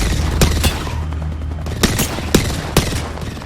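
Gunfire in a competitive online battle royale match, sharp shots cracking out in a steady series of separate bursts over a dense, continuous game background.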